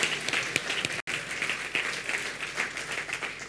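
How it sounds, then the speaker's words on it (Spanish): Church congregation applauding together during a service, dense continuous clapping filling the space for a few seconds with a brief cut partway through. "Sí, le aplaudimos a Cristo por ese liderazgo."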